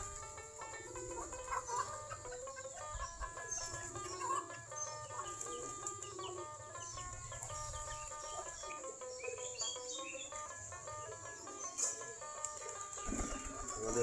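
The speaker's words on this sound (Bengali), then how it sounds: "সবগুলা দেশি জাতের কবুতর।" Native Giribaz pigeons coo softly in a loft after feeding, a faint, layered murmur of overlapping calls over a low background hum, with no voices.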